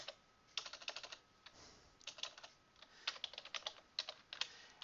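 Fingers typing on a computer keyboard in a quiet room: irregular bursts of fast, crisp key clicks with short pauses between, close and fairly soft, with no talk.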